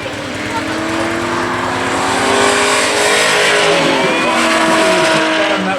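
A red Ford Mustang tears down the strip at a drag race event, its loud, close engine roaring and rising in pitch as it accelerates hard, with tire noise mixed in.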